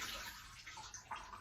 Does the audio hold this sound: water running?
yes